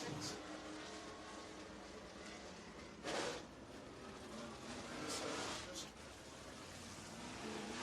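A late model race car runs on a dirt speedway in Burnside, Kentucky, giving a steady broadband engine roar at moderate distance with a brief louder surge, no talk over it.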